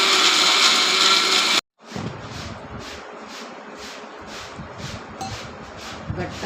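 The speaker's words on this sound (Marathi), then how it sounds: "आपण आता ते वाटून घेऊ" A mixer grinder grinds green chili chutney with salt and a little water, a loud steady whir that cuts off abruptly, then returns as a rougher pulsing churn with rhythmic swells.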